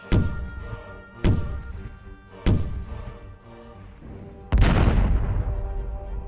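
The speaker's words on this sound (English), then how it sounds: "the pirates fired their cannon into the sky." Four heavy booms, evenly spaced about a second apart, each thudding loudly and fading, the last one longest and fullest, like cannon shots.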